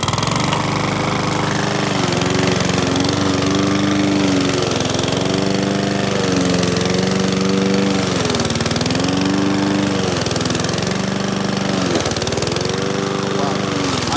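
A Powersmart lawn mower engine runs loud and steady, its pitch dipping and rising as the load changes during mowing, with a brief sag near the end.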